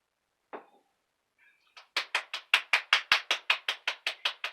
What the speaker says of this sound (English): Yay! Applause.